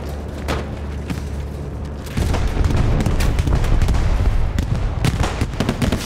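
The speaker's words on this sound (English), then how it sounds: "Bombing run coming in." Heavy bombing run explosions in the WWII shooter Hell Let Loose, a deep rumbling barrage that swells suddenly midway into continuous loud booms and blasts layered over distant gunfire.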